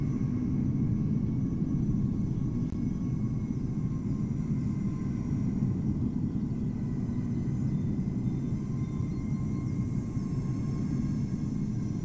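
A Qatar-liveried airliner in Microsoft Flight Simulator at Amsterdam Schiphol, cloudy weather, gives a steady, continuous low engine rumble throughout, with no talk.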